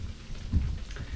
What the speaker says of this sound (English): but I have snow coming down and ice.